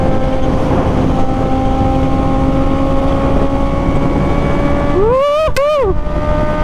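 Honda CB650R motorcycle engine droning steadily while riding in wind, then a sharp rev rising and falling in pitch near the end, loud and close.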